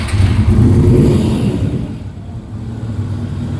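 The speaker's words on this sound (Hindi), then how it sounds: "ये बड़ी अच्छी साउंड है, वी ट्विन इंजन है इसके अंदर" A V-twin motorcycle engine revs up loudly, then settles into a deep, steady idle rumble close by.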